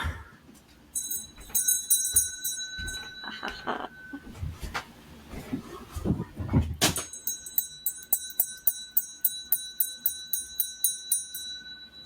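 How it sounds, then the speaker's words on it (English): A small hand bell rung close by, first with scattered clanks and handling noise, then struck repeatedly in a steady bright ringing series, with a voice speaking partway through. "I'm going to grab it. I need the bell."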